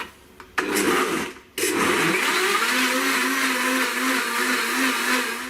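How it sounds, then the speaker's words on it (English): A blender making a smoothie whirs loudly and steadily after a couple of brief starts, its motor pitch settling into a continuous high-speed drone. "Now just blend this until it's mixed well."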